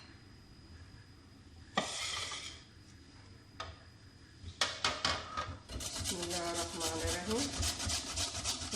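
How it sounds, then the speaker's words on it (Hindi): Food being grated by hand on a kitchen grater in a home kitchen, giving a run of repeated rasping strokes that grows busier toward the end, with a voice speaking briefly near the start. "तो अब हम कद्दूकस करना शुरू करते हैं।"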